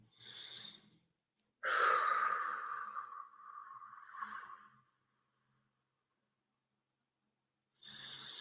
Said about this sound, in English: let's just start off by taking a deep breath or two